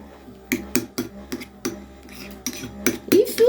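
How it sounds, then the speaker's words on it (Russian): Mayonnaise being stirred into pizza sauce with a spoon, a close series of sharp clicks and scrapes against the bowl in an uneven rhythm, getting busier toward the end. "И хорошо перемешиваю."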